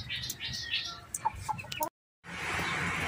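A diseased fighting gamecock clucks in short, close bursts, with soft rustling between calls before a brief gap of silence and then steady background noise.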